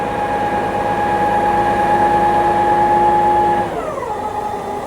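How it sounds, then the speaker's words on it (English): Truck-mounted shredder running outdoors near Jomtien beach in Pattaya, a loud steady mechanical whine and hum that winds down in pitch near the end, alone without talk. "Truck right here with a shredder."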